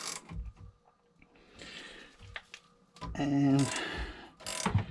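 A 5/8 wrench loosens an oil burner filter, giving rapid ratcheting clicks and a mechanical creak, close by, with a brief spoken word.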